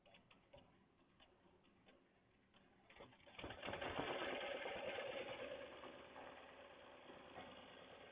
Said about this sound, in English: We are about to stitch our stabilizing stitch and then some embroideries to finish this patch.